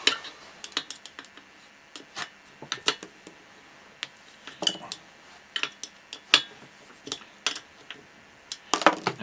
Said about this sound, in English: The screws are going to be really pulled down now.